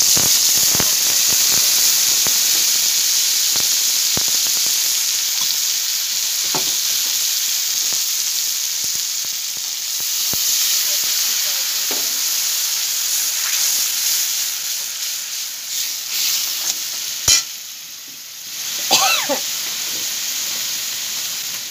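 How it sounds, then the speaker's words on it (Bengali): Garlic frying in oil in a pan for a Bengali taro leaf curry, a steady close sizzle and hiss throughout with occasional stirring clinks and scrapes near the end. "রসুনটা বেশ ভাজা হয়ে গিয়েছে।"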